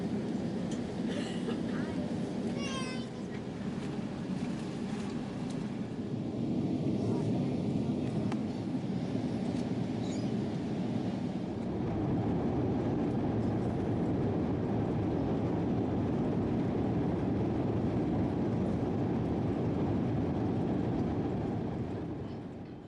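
Steady engine rumble and cabin hum inside a Qatar Airways Airbus A350-900 airliner as it taxis to the runway, loud and continuous throughout with no talk.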